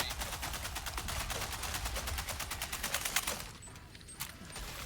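Sentry gun in Helldivers 2 firing a rapid, steady stream of evenly spaced shots for a few seconds, then stopping, leaving quieter game ambience with a few faint pings.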